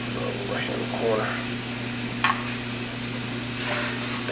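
Butter sizzling in a pan with peppers and onions for beef lettuce wraps, a steady frying hiss under a low hum, with a few scrapes and clinks of stirring scattered throughout.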